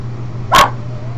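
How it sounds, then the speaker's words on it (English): A dog barks once, a single sharp, fairly loud bark over a faint steady background hum, with no talk. "My dog is barking again."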